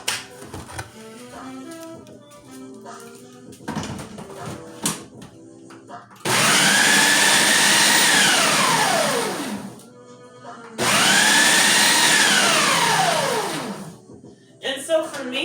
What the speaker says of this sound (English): put this in the blender.